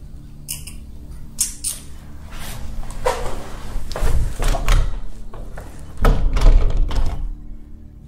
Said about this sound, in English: You just opened and closed the door.